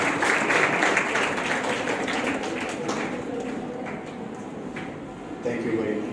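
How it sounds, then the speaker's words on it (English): Sustained audience applause in a college auditorium, broad and even for several seconds, with voices mixed in throughout and a brief swell near the end. "Please give a huge round of applause."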